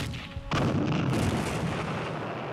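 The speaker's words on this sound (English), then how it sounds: "All along these hills, the artillery, the tanks, the mortars, everything is letting loose on the Chinese." Artillery, tank and mortar fire along hillsides in a Korean War battle: dense, continuous booming barrage that erupts loudly after a quieter half-second and rumbles on without pause, no voices.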